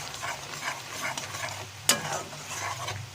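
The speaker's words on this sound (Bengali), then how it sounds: "পেঁয়াজ হালকা লাল লাল করে ভাজা হয়ে গেছে" Chopped onions frying in a wok for a prawn dopiaza, a steady soft sizzle with a brief sharp clink of stirring near the middle, heard close with no talk.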